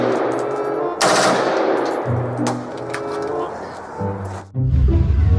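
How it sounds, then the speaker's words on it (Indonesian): Rapid bursts of rifle fire from a video game, loud and continuous, with layered game sound effects and a heavy low rumble toward the end. "Yang ini tembakan laras panjang"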